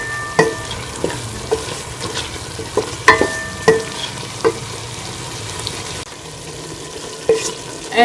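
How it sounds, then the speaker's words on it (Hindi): Yogurt being stirred into vegetables frying in a pot for vegetable biryani, with a soft continuous sizzle under repeated scraping, clinking stirs at an uneven rhythm. "अब इसके साथ ही हम इसमें दही शामिल कर देंगे और इसको अच्छी तरह से मिक्स कर लेंगे सब्जियों के साथ।"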